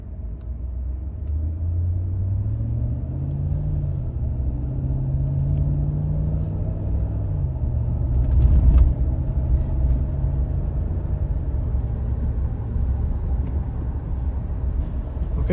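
A GMC vehicle's engine runs after a camshaft valve lifter repair, giving a steady low rumbling idle with a rising then settling tone, loud and continuous without speech.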